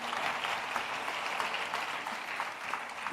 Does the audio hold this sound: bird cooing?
no